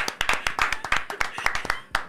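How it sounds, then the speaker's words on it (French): Studio audience and hosts applauding young Raphaël on a radio show, a quick burst of sharp close hand claps, uneven and energetic, heard alone without speech. "on applaudit Raphaël"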